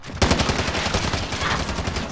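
Sustained automatic gunfire in a video game tournament match, a dense, loud burst of rapid shots that starts abruptly and rattles on continuously without pause.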